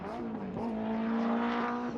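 Acura Integra race car held at full throttle on the Road Atlanta circuit during a time attack event, a steady high-pitched engine drone heard from a distance, mixed with track ambience.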